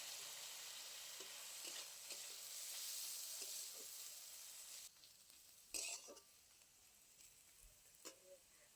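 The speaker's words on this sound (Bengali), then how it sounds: "খুব ভালো করে গাজরটাকে আমি তেলের মধ্যে ভেজে নেব" Carrot frying in oil in a pan gives a steady bright sizzle for about five seconds, then quieter frying broken by sharp stirring scrapes and clicks near the end.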